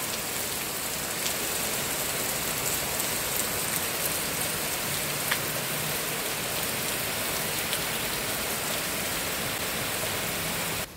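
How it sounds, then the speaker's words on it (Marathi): Steady rain falls outside, a dense even hiss of drops on surfaces that continues without a break, with no voices. "बाहेर पाऊस पडत आहे"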